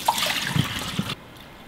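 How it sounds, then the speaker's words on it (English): Water poured and drained while rinsing pea sprouts for microgreens, a short splashing gush with trickling that stops abruptly, close and without talk. "I'm gonna drain water, then put the new fresh water."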